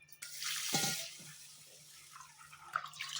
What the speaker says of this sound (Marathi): तर हा तांदूळ आता आपण 2 ते 3 पाण्यात स्वच्छ धुवून घेऊया.